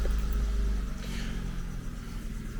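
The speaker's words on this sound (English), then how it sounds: "please excuse the engine noise" A car engine idles with a low, steady rumble, close by and fairly loud, with no talking over it.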